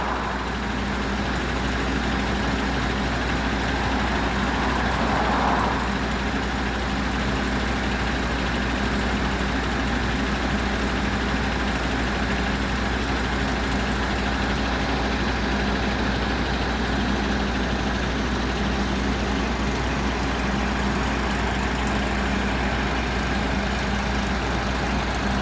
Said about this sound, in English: We like big tractors down south.